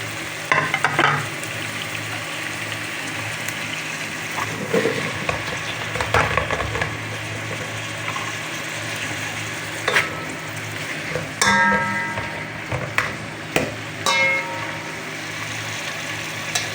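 Chicken gizzards for adobo fry in a pan with a steady, loud sizzle throughout, with occasional stirring scrapes and clatters and no talking.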